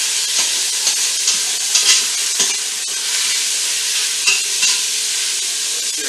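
Loud, steady sizzle of beef searing in a hot pan for an English beef and ale stew, a continuous hiss with occasional pops and stirring scrapes, close up with no talking.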